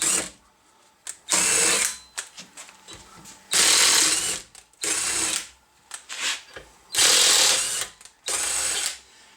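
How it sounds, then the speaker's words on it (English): A 3/8-inch impact driver runs taps into mild steel with no lubricant, firing in six loud bursts of rapid hammering impacts separated by short pauses and small clicks, close up and with no talk. "3/8 impact does a beautiful job of running the taps in."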